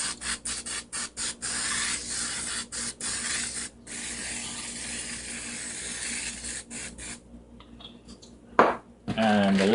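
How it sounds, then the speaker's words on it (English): Quick bursts of fine hissing spray from an olive oil mister over flatbread pizzas, fired in a rapid series, then a pause and a short squeak near the end. "I'm just gonna spray a little bit of olive oil over the top of these."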